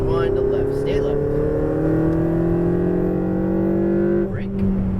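A Ferrari 488 GTB on a race track accelerating under throttle, its engine note climbing in a smooth loud rising whine that holds for several seconds before briefly dropping at a shift, with a voice talking over it.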